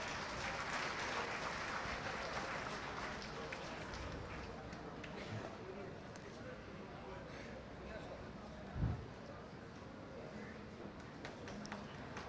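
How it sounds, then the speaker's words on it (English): An opening-ceremony audience at a pharmaceutical expo in Dhaka claps in a broad, steady wash, fading slightly over time, with one sharp knock partway through. "May I have a big round of applause,"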